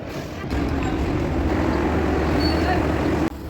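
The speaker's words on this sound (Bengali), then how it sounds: "ইতিমধ্যে ট্রেনটি এসে দাঁড়িয়ে গেছে" A train arriving at a station in northern Bangladesh rumbles steadily, a broad low roar that holds throughout.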